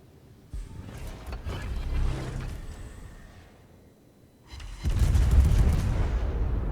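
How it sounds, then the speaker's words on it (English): A naval gun salvo in World of Warships, with heavy booming reports and rumbling mechanical sounds, the loudest burst landing near the end. "Another salvo out at him."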